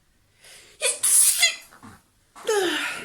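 Two or three loud, close sneezes in a row, each a sharp breathy burst with a short intake of breath before it, in a quiet room with no speech around them.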